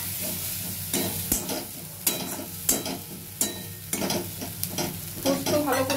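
Poppy seed paste frying in a pan for paneer korma, stirred with repeated scraping strokes of a spoon over a constant sizzle, about six or seven strokes in a loose rhythm, close and moderately loud.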